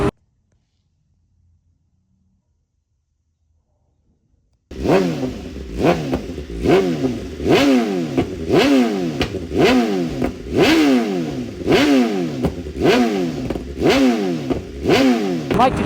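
A motorcycle running a Stage 1 tune starts after a few seconds of silence, then revs and accelerates hard, pitch climbing and dropping repeatedly through gear changes, loud and close.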